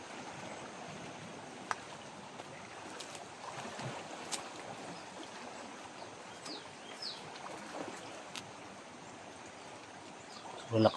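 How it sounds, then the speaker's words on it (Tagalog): Strong floodwater current rushes past in a steady, distant-sounding wash, fairly faint overall, with a few small knocks and splashes breaking through. "Sobrang lakas ng tubig mga tol."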